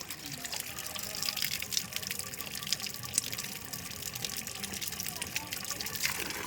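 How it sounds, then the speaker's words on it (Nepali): Spring water for drinking flows steadily from an outlet at a park in Dharan, a continuous close splashing gush with faint voices of people talking in the background. "अब यसरी उम्रेको पानी खाउँ है।"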